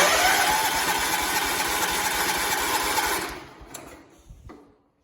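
A 1985 John Deere 210 lawn tractor engine runs with a steady, fast mechanical chatter for about three seconds, close and loud, then cuts out and sputters before falling quiet.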